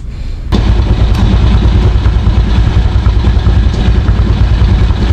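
A Motorstar motorcycle engine, its cracked casing freshly patched and running slightly out of tune, kicks in abruptly and settles into a loud, close, steady idle.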